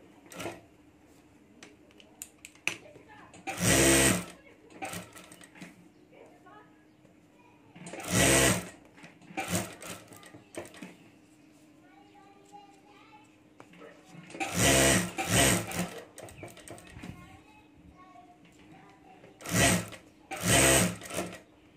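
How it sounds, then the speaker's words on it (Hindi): A sewing machine stitches fabric, a rubber sheet and lining together in several loud bursts of rapid needle clatter, separated by pauses in which someone talks quietly. "तो यहाँ चारों तरफ में सिलाई कर"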